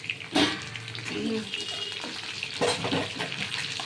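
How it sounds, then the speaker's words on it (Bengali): Mixed vegetables frying slowly in a pan over a high flame, a soft continuous sizzle with a couple of louder clanks and scrapes from stirring, faint and close. "সব সবজি দিয়ে দিলাম এটা আস্তে আস্তে ভাজা হবে"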